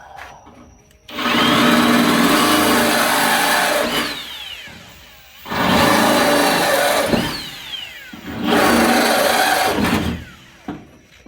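A cordless power drill bores holes through a leaf spring hanger on a Ford Ranger, running in three long loud bursts of several seconds each with pitch shifts as the bit bites the metal, separated by brief quiet pauses.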